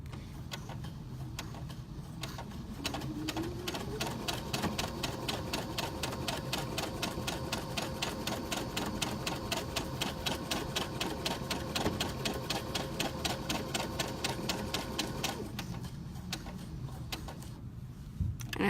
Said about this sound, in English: Just backstitch a couple times.